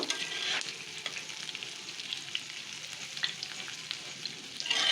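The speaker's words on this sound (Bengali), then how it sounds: "এখন এগুলোকে আমি ভালোভাবে মুচমুচি করে ভেজে নিব" Lentil fritters (bora) deep-fry in plenty of oil, a close, crackling sizzle with frequent small pops and a few stirring knocks, fairly quiet and without speech.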